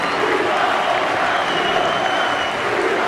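A rugby crowd at a Challenge Cup match between Hull KR and Celtic Crusaders applauds steadily as the teams walk out, a dense, even wash of clapping with faint talk underneath.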